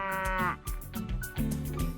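A cow moos loudly and close in two drawn-out calls separated by a short gap, with no other sounds around.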